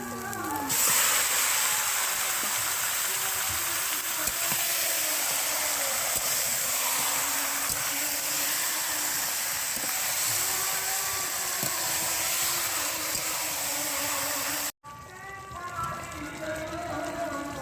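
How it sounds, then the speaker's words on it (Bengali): Marinated chicken pieces fry in hot spiced oil in a pan, giving a loud, dense, continuous hiss and sizzle that cuts off sharply near the end before a quieter stretch, with a voice faintly underneath. "দেখুন বন্ধুরা, মাংস আমি কষিয়ে নিচ্ছি।"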